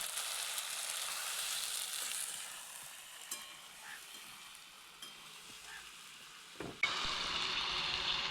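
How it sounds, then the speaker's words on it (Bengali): Tomatoes fry in a pan, giving a soft, steady sizzle with occasional light clicks of stirring, then a sudden louder burst of hissing near the end, all close and without speech. "এবার দিয়ে দিচ্ছি টমাটো 3টে কেটে রেখেছি।"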